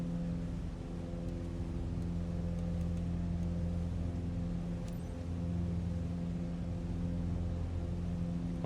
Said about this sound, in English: Can you hear the engine now?